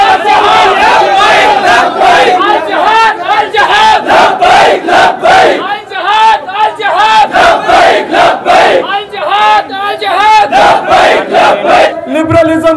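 A large rally crowd roars back in loud rhythmic chanted shouts, bursts rising and falling in quick succession, close and dense with many voices overlapping throughout.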